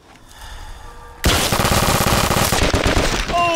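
Rapid shotgun blasts in Fallout: Tale of Two Wastelands, a sudden loud volley after a quiet lead-in, shots hammering in quick succession close up over crackling game noise.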